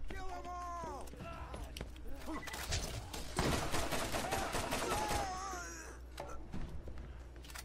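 Gunshots from the Borderlands 1 shooter pop in scattered bursts and single cracks at moderate volume, mixed with game effects and a voice talking through much of the stretch.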